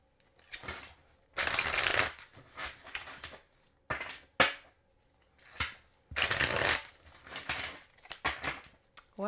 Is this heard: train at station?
no